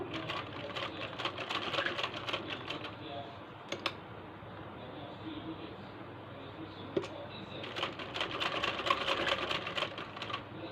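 A sewing machine stitches a sleeve along buckram in bursts of rapid mechanical clatter, pausing in the middle and picking up again, with someone speaking quietly between runs.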